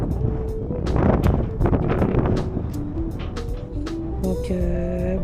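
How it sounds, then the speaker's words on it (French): Strong wind gusts buffet the microphone on a quay in Fort-de-France, Martinique, as a steady roaring rumble with a few faint tonal sounds mixed in. "Il y a vraiment beaucoup de vent ces temps-ci."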